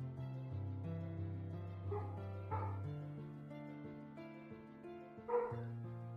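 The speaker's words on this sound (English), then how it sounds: "I'm sorry about the dog barking." An indoor dog at a villa in Lonavala barks at visitors in a string of moderate woofs, yips and whimpers, steady and fairly close, with no talking.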